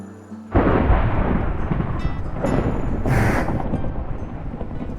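Fire roaring in the FNaF Burning Remnants video game: a sudden loud whooshing rumble that stays dense and continuous, with a brief brighter hissing surge in the middle.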